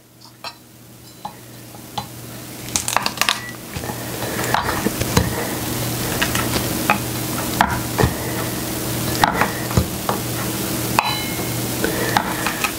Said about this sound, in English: now I'm going to crush my garlic